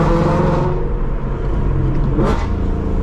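A 2016 Ford Mustang GT V8 with Kooks headers and a Corsa Extreme catback exhaust rumbles deeply and steadily nearby, with a brief sharper rise in pitch midway as if revving or shifting.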